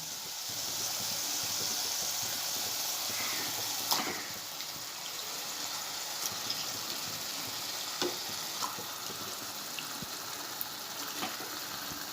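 Mutton liver going into masala frying in oil, a steady close sizzle with a few spoon clinks and scrapes as it is stirred, no one speaking.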